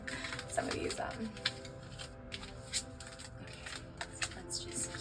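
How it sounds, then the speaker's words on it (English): A deck of tarot cards shuffled by hand in repeated soft riffling bursts and slaps, close and fairly quiet, with a person talking softly between the shuffles. "So let's just keep shuffling"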